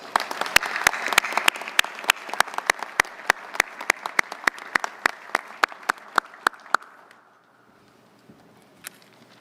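Applause at a Navy luncheon for U.S. Third Fleet awardees: evenly spaced sharp claps ring out over a softer crowd patter, then stop abruptly after about seven seconds, leaving a quiet room with one last stray clap.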